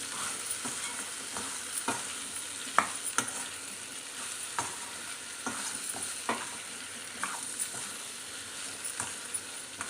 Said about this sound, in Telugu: ఇప్పుడు మ్యాంగోస్ కూడా యాడ్ చేసుకుంటున్నాను నేను యాడ్ చేసుకొని మంచిగా మిక్స్ చేసుకోవాలండి